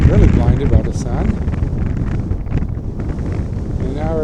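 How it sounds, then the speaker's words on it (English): Strong wind on a snowy hilltop buffets the microphone in a constant, roaring rush close up, and a voice talks over it. "Kind of snowy, very windy."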